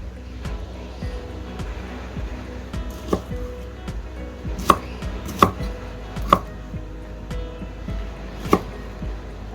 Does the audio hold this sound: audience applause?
no